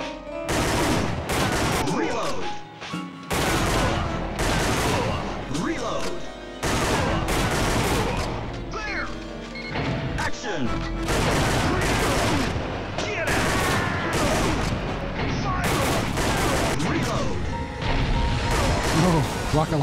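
Dense, loud bursts of machine gun fire and explosions from the PS1 shooter Time Crisis, played on the PCSX-R emulator, rattling almost continuously with brief gaps, with a player talking over the action.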